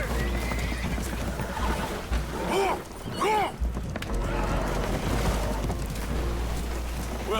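Spooked horses neigh and whinny in Red Dead Redemption 2 aboard a holed boat taking on water, with shrill cries over a constant low rumble and splashing.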